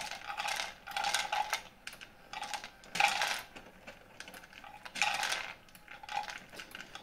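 A Pawaboo 7-litre connected pet feeder dispensing dry kibble, with repeated clattering rattles of pellets dropping into a bowl in short bursts, close and fairly loud, with no talking.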